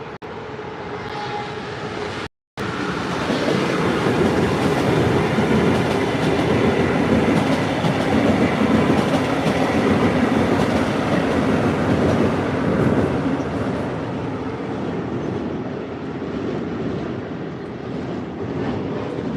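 A Brightline passenger train rushes past nearby at Stuart, a loud sustained roar of wheels and rumbling cars that slowly fades toward the end.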